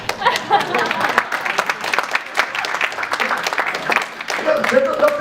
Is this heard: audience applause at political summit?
yes